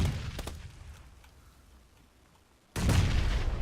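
Grenade blasts in a first-person shooter game: a cluster of sharp bursts early, a fading quiet tail, then a loud heavy boom that sustains to the end, with no talk.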